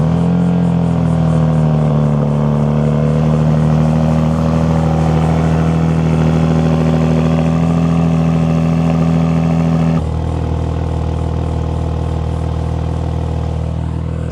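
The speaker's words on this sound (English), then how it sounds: "take a listen to the cold start and also this truck at idle." A 2025 Ram RHO pickup with the Hurricane inline-six firing on a cold start, then settling into a loud, steady, deep idle drone with a smooth continuous hum and no talking.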